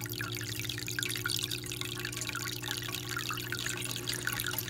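Water drains steadily through a bell siphon from a grow tray, a continuous close trickling and dripping over a low, constant hum, with no talking.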